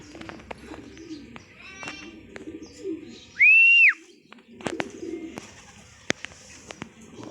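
Pigeons coo softly in a loft in Atimonan, Quezon, with low murmuring calls amid light rustling and taps, and one bright whistle rising briefly over the scene.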